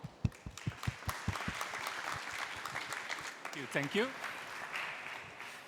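Applause from a conference audience at a PyData tech talk, a burst of claps at the start that fades into a looser patter under a speaker's voice, with brief talking near the end.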